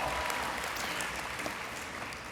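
Audience applause at a university spring convocation ceremony: a continuous, fairly faint patter of many hands clapping in a large hall, holding steady for a couple of seconds.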